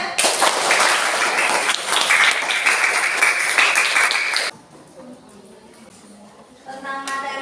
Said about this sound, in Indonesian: Tepuk tangan tuh semuanya.